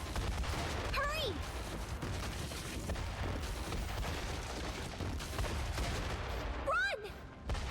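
Gunfire and blasts rattle through a collapsing cave in the fantasy game Metaphor: ReFantazio, a dense rumbling barrage filling the whole stretch, with voices calling out over it.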